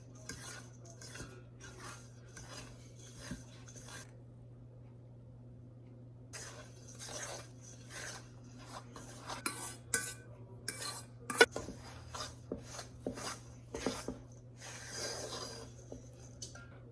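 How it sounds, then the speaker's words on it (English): A fork scrapes and clinks against a bowl while wet and dry sourdough biscuit ingredients are mixed. The strokes are quiet, close and irregular over a steady low hum, with brief pauses. "now we slowly incorporate the wet ingredients into the dry ingredients"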